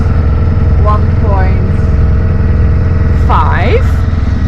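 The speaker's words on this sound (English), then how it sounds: "my little engine is doing what she can" Small sailboat engine pushing against the current at around two knots: a loud, steady low drone throughout, with brief tonal vocal sounds rising over it now and then.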